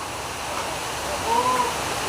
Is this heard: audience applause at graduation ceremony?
no